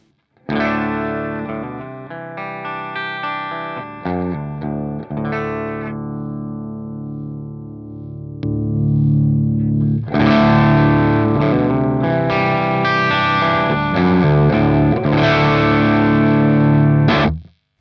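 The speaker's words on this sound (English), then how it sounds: "Sean Tubbs explained pulling the gain knob basically gives the amp an EQ lift and makes it sound bigger" A heavily overdriven electric guitar plays loud chords and riffs through a REVV D20 amp, thick and gritty, growing bigger and fuller partway through.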